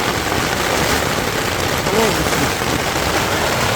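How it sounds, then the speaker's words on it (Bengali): Heavy rain pours down during a severe storm in a village, a dense, loud, unbroken roar of falling water throughout. "দেখেন কি পরিমাণ বৃষ্টি হচ্ছে"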